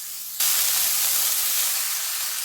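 Tomatoes hit hot oil in a pan for a village-style ridge gourd chutney and start sizzling loudly. A sudden hiss bursts in and holds steady and close.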